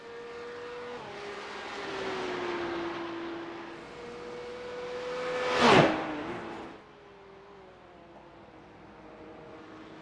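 Porsche Cup race cars on pit road at a Belle Isle race, a steady engine drone shifting pitch with one car sweeping loudly past midway, then fading to a lower hum.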